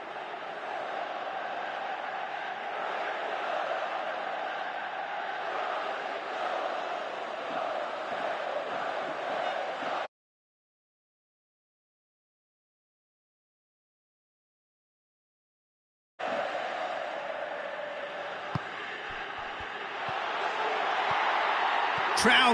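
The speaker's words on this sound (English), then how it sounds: "Crowd calling for him to shoot." A stadium crowd in the PES 2018 football video game sends up a sustained roar of calls and chanting, broken by a few seconds of silence before the din returns and swells at the end.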